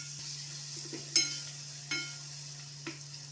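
Tomato fries in a pan with a low, quiet sizzle under a steady hum, broken by three sharp scrapes of a spatula, close by.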